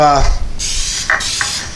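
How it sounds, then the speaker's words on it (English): Coconut oil spray hisses onto a 10-inch springform pan in a few short bursts, near and fairly loud, after a brief voice at the start. "we're gonna actually spray it with a little coconut oil"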